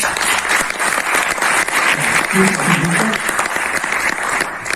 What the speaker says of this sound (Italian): gli farei un applauso